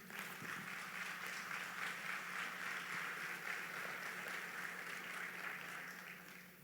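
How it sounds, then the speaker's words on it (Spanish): Steady applause from a church congregation, a dense wash of many hands clapping together that carries on throughout and fades slightly at the end. "Dar un aplauso a Dios por eso."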